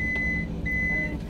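A van is started with a steady electronic beep tone sounding over a low engine idle, near and fairly loud, with a brief break midway.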